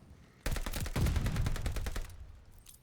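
Rapid automatic gunfire in Call of Duty Vanguard, a dense burst of repeated shots lasting over a second, loud and close, with a player firing wildly across the map.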